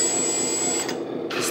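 On a 1/14 scale metal RC hydraulic dumper truck, the small pump motor whirs in a steady, buzzy drone up close, then cuts out briefly and starts again near the end.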